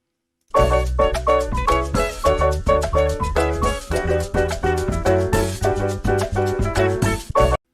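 A dense, steady music loop pitched down one semitone, with punchy low end and layered harmonic chords, playing continuously and loud with no voices.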